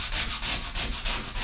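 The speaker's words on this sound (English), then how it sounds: "up there sanding that ring a little bit" A ring is sanded during a faucet and fan light replacement, making a steady rhythmic scratchy rubbing with strokes about every quarter second, close and fairly loud.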